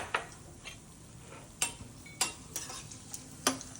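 Raisins sizzling in a hot pan during suji halwa preparation, with soft continuous frying crackle punctuated by several sharp clinks of a spoon stirring against the pan, no voices.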